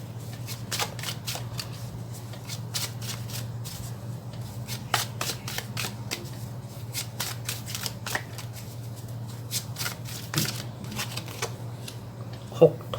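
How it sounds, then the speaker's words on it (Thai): Tarot cards being shuffled for a love reading, with quick papery riffles and taps repeating through a steady low hum and faint room noise. "ขอไพ่พลังงานหลักให้กับความรักความสัมพันธ์ของทัดดิน"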